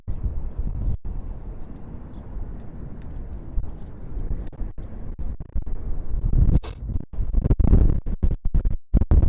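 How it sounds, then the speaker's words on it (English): Wind gusts buffet a lapel microphone outdoors near the SFO airfield, a steady rumbling roar with sharp bursts of crackling and thumps throughout, strongest toward the end. "Big old gust of wind right now."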